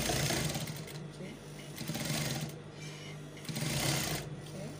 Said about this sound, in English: I'm carefully going to sew it.